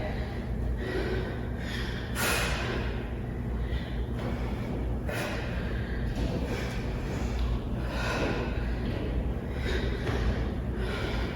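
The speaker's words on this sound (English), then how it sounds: "Exhale." A person forcefully exhaling during a fitness class workout, with repeated sharp breathy puffs at irregular intervals over a steady low background hum, fairly close.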